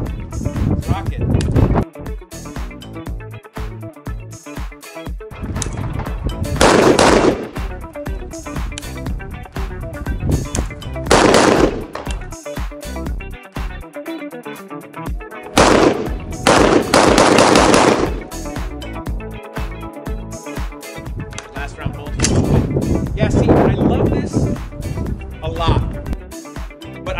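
Zastava ZPAP M70 rifle fired at an outdoor range, several bursts of loud, sharp shots spread across the clip, with people talking between strings of fire.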